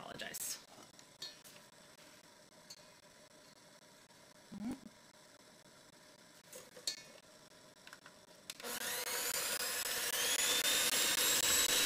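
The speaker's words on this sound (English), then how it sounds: "I'm going to switch over to the hand mix, the hand mixer. It is going to be loud." Electric hand mixer starts up loud after a quiet kitchen stretch with small clinks, then runs steadily with a whining hum, used while making lemon meringue pie cheesecake.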